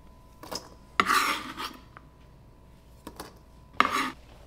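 A knife roughly chopping about ten gherkins on a board, a few scattered close thuds and scraping cuts separated by short pauses, heard alone.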